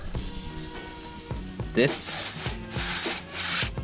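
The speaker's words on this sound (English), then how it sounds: "one thing I did notice when I started sanding down this" Gritty sanding strokes rub back and forth across thin car headliner material, irregular and close, with a few brief louder hissing passes.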